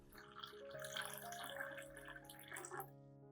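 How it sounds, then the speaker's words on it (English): Clean water pours into orchid fertilizer solution to dilute it, a faint trickling splash lasting a few seconds over a quiet background tone. "The next step is to add 1 liter of clean water to dilute the solution."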